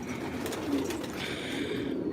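Colorful pigeons in a loft coo softly and continuously, a low, murmuring flock sound at moderate distance with no one speaking.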